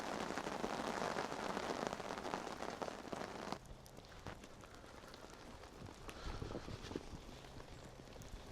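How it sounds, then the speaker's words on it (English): Steady rain falls on a campsite with a dense patter that is louder at first and then settles into a softer hiss with scattered individual drips nearby. "I'm going to sit here and have a beer in the rain"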